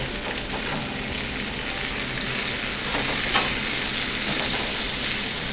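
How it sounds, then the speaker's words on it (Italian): Loud, constant sizzle of broad beans sautéing in a hot pan, a dense crackling hiss that swells slightly midway, with no talking. "Facciamo rosolare."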